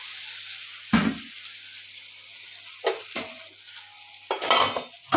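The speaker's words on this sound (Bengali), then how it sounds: "এবার জল ঢেলে দেবো জল ঢেলে দিলাম" Water splashes into a pan of frying potatoes and pointed gourd, giving three loud hissing bursts of sizzle and scraping around a quieter background crackle, with no talking.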